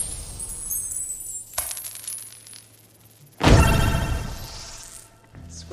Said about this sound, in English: The only good part about this thing is the coins that are dropped at the end.